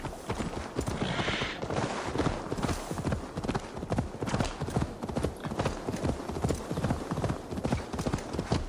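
Horse hooves galloping in Assassin's Creed Valhalla, a steady, loud, rapid clip-clop rhythm continuing throughout, with a brief whinny-like sound near the start and game ambience underneath.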